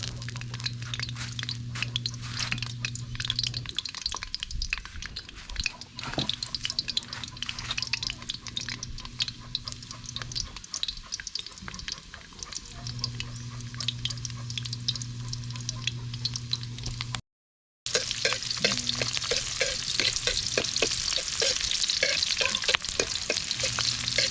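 Ginger goes into hot oil in a pot for chicken tinola, giving a continuous close sizzle and crackle with frequent scraping stir strokes, a steady low hum underneath for much of it, and a brief cut before the frying grows brighter and louder.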